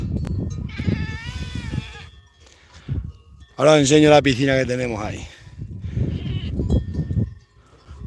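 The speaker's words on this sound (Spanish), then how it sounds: "Van a beber las cabras, mirad." Mountain goats bleat in a high sierra, with several wavering, tremulous cries (one loud and close) while people talk nearby and a cowbell clinks faintly.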